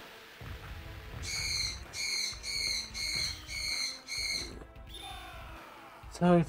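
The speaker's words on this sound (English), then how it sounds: "Sorry if there's loud birds squawking in the audio." Birds squawking loudly in a room, six evenly spaced harsh bursts, then a brief shrill call over background speech from a game session.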